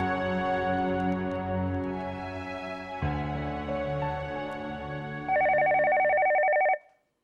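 A telephone ringback sounds on a line after a number is dialed, steady tonal rings filling the span and ending with a louder, brighter final tone before cutting off.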